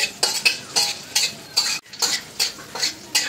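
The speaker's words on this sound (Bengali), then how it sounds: "ঘির সাথে বাদাম কিশমিশটা ভেজে নিচ্ছি" A spatula scrapes and stirs almonds and raisins frying in ghee in a pan, with a steady run of about eight close, crisp strokes and a faint sizzle underneath.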